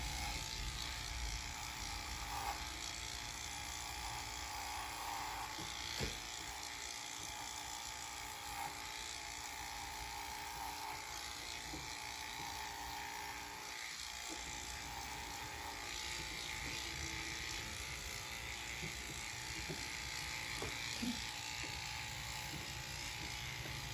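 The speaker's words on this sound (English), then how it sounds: "Put on our clippers and use our number 10 blade and our Wahl clippers. And I'm going to go ahead and start the shave." Wahl electric clippers fitted with a number 10 blade shave a poodle's face, giving a steady, faint, high-pitched motor buzz that runs continuously throughout, with small shifts as the blade moves over the fur.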